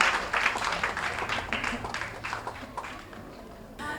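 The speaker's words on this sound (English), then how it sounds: "A round of applause." Audience applause at a school science fair closing ceremony: a dense, steady patter of many hands clapping together for a few seconds, moderately loud, then thinning out near the end.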